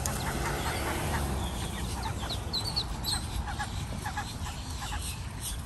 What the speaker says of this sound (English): Let me see how many ducks are here.